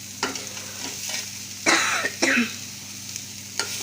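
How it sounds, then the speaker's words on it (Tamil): Crumbled paneer stirred into sautéed onions in a pan on low heat for paneer poriyal, giving soft scraping and faint sizzling with a few louder spoon strokes near the middle, close and fairly quiet. "பன்னீரை சேர்த்துட்டு நம்ம நல்லா கிண்டி விட்டுக்கலாம்"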